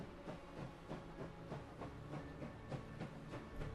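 Faint, rhythmic clacking of a train rolling along the tracks in the game Last Train Home, with evenly spaced beats over a soft steady hiss and no voices.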